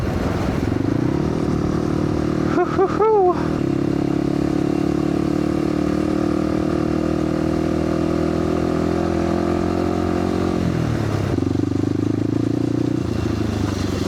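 Motorcycle engine on a ride along a rural road near a river, a steady droning hum with pitch shifts as the rider changes speed, a brief clattering burst early on.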